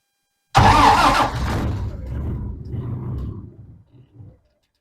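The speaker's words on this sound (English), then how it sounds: "let's see if this thing will start in this 30-degree weather" A Ford Model A engine starting in 30-degree cold weather bursts loudly to life, then settles into an uneven, rumbling run that fades and sputters out toward the end.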